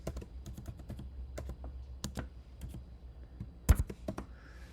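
Password being typed on a computer keyboard, a steady run of close, crisp key clicks with a louder cluster of keystrokes near the end and no talking.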